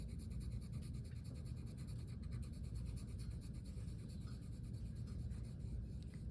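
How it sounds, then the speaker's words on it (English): Pencil grid lines being erased from a drawing, a steady close rubbing and scratching of eraser on paper that continues without pause. "I'm just gonna really quickly erase those lines so we don't see them."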